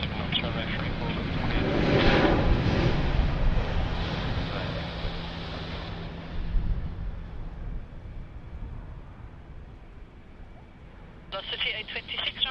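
An airliner takes off from runway 34 right at Sydney Airport, a broad jet engine roar that swells and then slowly fades into the distance while a radio voice speaks, ending with a brief electronic tone.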